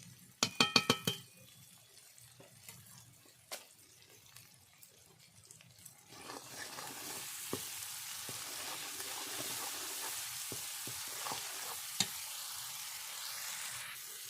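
Spice masala of chilli, cumin and coriander powder sizzles in ghee for chicken biryani. A few sharp utensil clinks come first, then a soft, steady frying hiss with occasional stirring scrapes.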